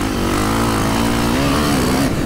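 A KTM 540 SXS motocross bike's engine revs hard and continuously, its loud buzzing tone rising and wavering throughout with no talk over it.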